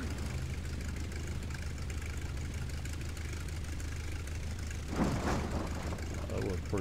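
A model airplane engine on a rough landing, a steady loud mid-pitched drone throughout with a harsher burst of clatter and rumble near the end as the plane touches down.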